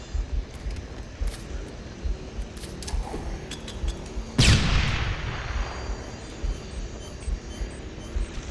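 A single loud explosion in a multiplayer shooter video game bursts close by partway through, its roar fading over a couple of seconds, amid scattered faint gunfire-like pops and clinks.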